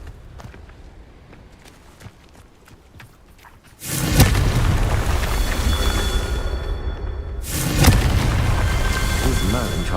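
A Confringo spell explosion in Hogwarts Legacy: after a stretch of soft steps, a loud, broad booming blast takes over and rumbles on, then swells again near the end.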